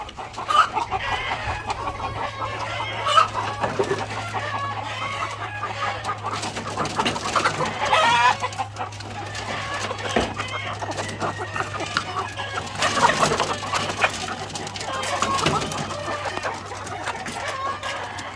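Laying hens on a farm cluck and chatter continuously at close range around feeding, a busy flock with overlapping calls over a steady low hum.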